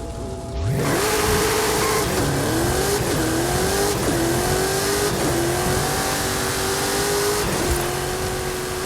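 Racing video game car engine, mid-speed steady drone with rhythmic gear-shift dips and rising pitch sweeps every second or so, loud and close, weaving through traffic in a close-drop run with AMG GT and Lamborghini Murcielago cars.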